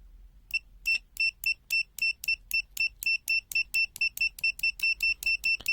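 A rapid series of about twenty short, sharp electronic beeps from an ANENG PN100 clamp meter's continuity buzzer, steady and evenly spaced, close and clear with no talking.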